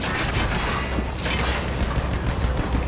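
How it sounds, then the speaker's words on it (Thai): Bombs explode in Battlefield 1 gameplay as a dense, loud barrage of booms and rumbling blasts that fills the whole stretch with no pause, overlapped by crackling gunfire. "โดน ทิ้งระเบิดไปอีกแล้ว ระเบิดอีกรอบ"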